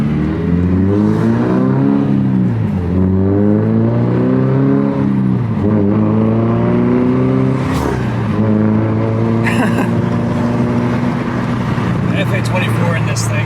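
A 2022 Toyota GR86 fitted with a Tomei exhaust accelerates hard through several gear pulls, its engine note rising and dropping between shifts, loud and close throughout.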